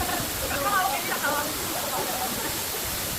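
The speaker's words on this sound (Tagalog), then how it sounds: "Matlag Waterfalls" Batlag waterfall in Tanay, Rizal, a steady broadband rush of falling water close by, with faint voices briefly audible over it.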